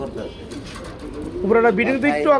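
Pigeons cooing at a bustling pigeon market, a low warbling coo rising clearly in the second half over background chatter and someone talking nearby.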